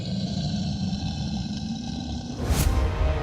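A low, menacing creature growl, used as an effect in a Hindi horror story, rumbles continuously and swells louder and harsher toward the end, with no voices over it.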